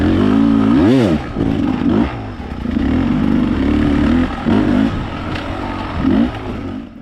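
A hard enduro dirt bike revs and bogs through a rough race course, the engine rising and falling in sharp bursts with clattering and scraping over obstacles, loud and close throughout.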